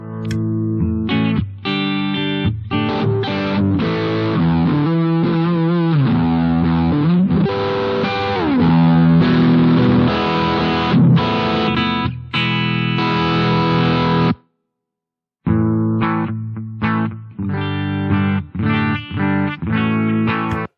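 Distorted electric guitar through a BOSS GT-1000 plays sustained chords and riffs with a thick, fuzzy tone, broken by a brief full stop before resuming.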